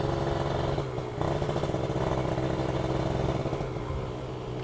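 A Kawasaki Ninja two-stroke motorcycle engine revs close by with a loud, continuous, buzzy drone. Its pitch lifts briefly with small throttle blips, and nobody talks over it.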